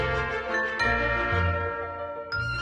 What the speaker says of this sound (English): I did add some bells. These are small bells that I had purchased last year on Amazon.